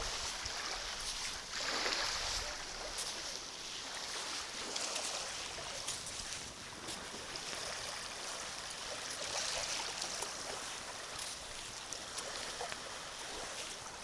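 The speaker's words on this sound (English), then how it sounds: "There's just enough noise in that sea to know" Soft, steady wash of gentle sea waves on a beach at dusk at Whiting Bay, Isle of Arran, a continuous low hiss with slight swells and no voices.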